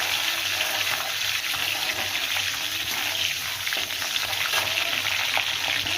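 Garlic and curry leaves frying in oil in a pan, a continuous close hiss and sizzle with steady bubbling and a faint low hum underneath.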